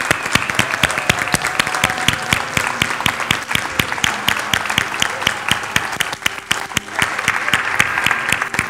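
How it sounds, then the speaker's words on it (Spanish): Audience of families applauding at a kindergarten graduation ceremony, with sustained, lively clapping from many hands, loud and continuous with crisp individual claps standing out. "Un fuerte aplauso para todos."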